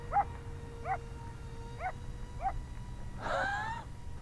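A dog gives four evenly spaced yips or barks from some distance outdoors, followed by a brief harsher burst, over a steady low hum, with no one talking.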